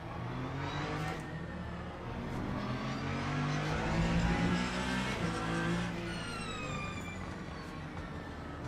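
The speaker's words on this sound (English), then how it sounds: "And now the BMW comes from behind." A BMW race car engine closing in from behind in the Le Mans Ultimate racing sim, a steady engine drone that swells and shifts pitch as it nears, fairly faint and alone.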